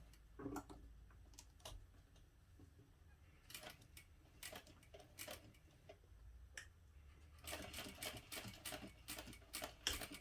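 A sewing machine top-stitching along the fold of a fabric backpack, running in short quiet bursts of rapid ticking stitches between pauses, close and faint.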